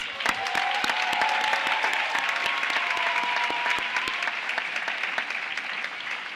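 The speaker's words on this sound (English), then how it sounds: "So let's give all of them a round of applause." An audience applauds at a college commencement ceremony, giving a sustained, dense round of clapping that fades slightly toward the end.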